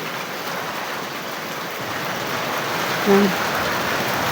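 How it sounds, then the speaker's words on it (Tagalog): Heavy rain pours in a dense, steady hiss that swells slightly toward the end, with a brief voice cutting through. "Ayan, malakas yung ulan mga kabiday."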